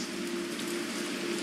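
Heavy rain pours steadily in Resident Evil 3, a constant broadband hiss under a low, steady indoor hum, with no voices.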